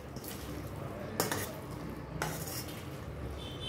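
A utensil scrapes and knocks against a pot as pickle is stirred into hot oil. Two sharp scrapes stand out over a steady soft sizzle, and no one talks.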